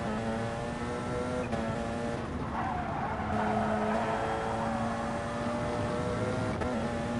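A Porsche 919 LMP race car in GT Sport at the Catalunya circuit, engine droning at steady high revs from onboard, with a short squeal partway through and constant loud mechanical roar and no voices.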